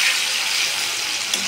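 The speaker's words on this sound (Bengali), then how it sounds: "টমেটো ছেড়ে দিলাম, দিয়ে এটা ভালো করে টমেটোটা পেস্ট করে নিয়ে" Tomatoes fried and mashed in a pan while cooking khichuri, a steady close hiss of sizzling oil with no voices.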